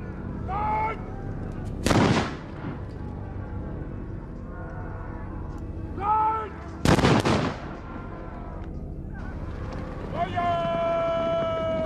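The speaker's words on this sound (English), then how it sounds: "In 1575 at Nagashino Castle, the Takeda clan for the first time braved musket fire." Musket fire at the 1575 battle of Nagashino Castle, where Takeda clan samurai faced firearms: two loud, sharp volleys with rumbling tails stand out from a continuous background din, and a narrator speaks between the blasts.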